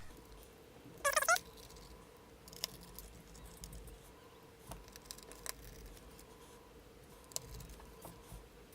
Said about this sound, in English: You'll hear everything kind of click into place.